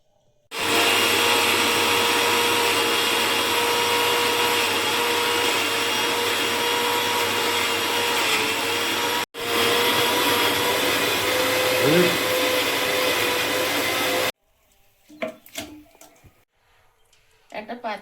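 An electric grinder runs loud and steady for about fourteen seconds, blending ginger and garlic into paste while cooking at an outdoor picnic, then cuts off, leaving quiet kitchen clatter.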